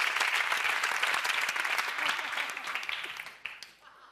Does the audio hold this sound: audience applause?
yes